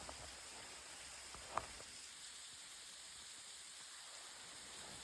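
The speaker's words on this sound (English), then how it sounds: "There's a waterfall right here." A small waterfall on a forest creek along the Borden Creek Trail in Bankhead National Forest gives a steady, even rush of falling water, heard at moderate distance with one brief faint click partway through.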